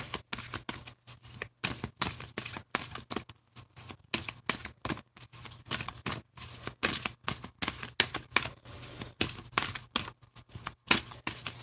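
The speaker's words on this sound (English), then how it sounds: "let's go ahead and pull a spirit animal card" Spirit animal oracle cards are shuffled close up in a steady run of crisp riffles and snaps, then a single card is pulled, with no talking over the papery clatter.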